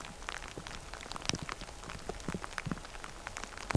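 Rain falls on a rainy day in the Yellowstone backcountry, a faint, steady patter with scattered individual drops tapping nearby surfaces.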